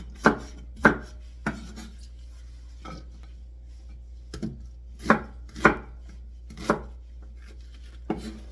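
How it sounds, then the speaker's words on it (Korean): A knife chops through white onion on a cutting board in about ten sharp, irregular strokes, close and clear against a quiet background. "이 하얀 양파는 바닥에다 깔으려고 써는 겁니다."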